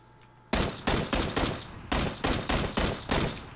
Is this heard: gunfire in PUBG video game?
yes